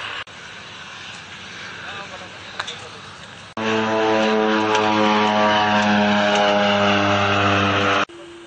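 A helicopter engine and rotor run up for a flight to Manang, a loud steady droning hum rising abruptly midway and cutting off near the end.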